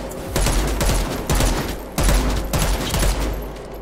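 Gunfire in a zombie video game, with rapid bursts of shots in several clusters, loud and sharp, and no speech over it.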